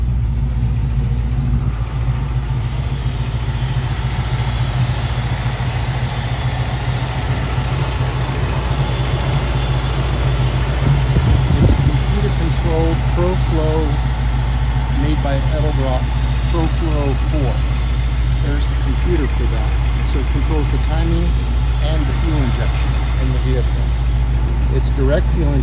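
The fuel-injected 302 V8 in a 1971 Ford Bronco idles at a steady low rumble, constant and close throughout, with a person talking over it partway through.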